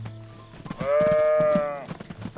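A sheep bleats once in DayZ, a sustained nasal, wavering call of about a second, heard near and clear amid soft background game noise.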